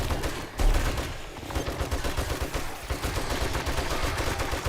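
Rapid bursts of video game gunfire as zombies are shot, a dense continuous volley of loud shots with a sharper blast near the start.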